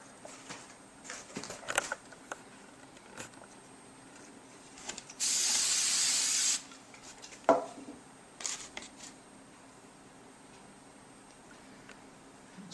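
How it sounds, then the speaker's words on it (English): Hairspray misted onto scratch-built model pine trees for a light coat, a single steady hiss of about a second and a half, fairly close and moderately loud amid quiet handling noises. "Then I give it another hairspray"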